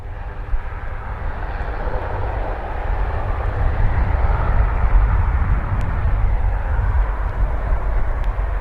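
A C-130 Hercules turboprop at an airfield gives off a loud, continuous engine roar with a deep low rumble that swells slightly midway and then holds steady, without any speech.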